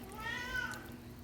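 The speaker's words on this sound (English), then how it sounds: "so you can hear my cats in the background" Cats meow in the background of a home kitchen while chili is being stirred, one drawn-out, rising-and-falling meow that is fairly faint and distant over quiet room noise.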